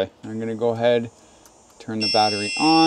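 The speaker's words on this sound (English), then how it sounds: "and that's the alarm" LiFePO4 golf cart battery alarm beeps with a steady high-pitched electronic tone when the battery is switched on, under a man's nearby speech.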